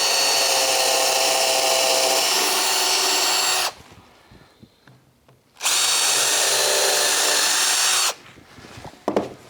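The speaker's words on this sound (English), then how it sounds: "what I'm going to do now is drill a pilot hole" A power drill whines loudly into hardwood, boring a pilot hole for a pedal car build in two long bursts separated by a quiet pause, ending with a few light knocks.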